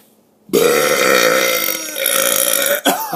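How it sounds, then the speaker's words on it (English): A single long, loud burp rumbles on for over two seconds, then breaks off and trails into a shorter second gulp near the end, with no talking around it. "Okay, one last burp."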